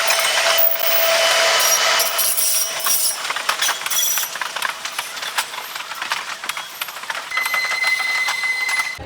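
Busy ambience near gate 8 of Nagpur railway station, with steady broadband rail and crowd noise, scattered clanks and metallic knocks, and a few high whines from trains, moderately loud and continuous.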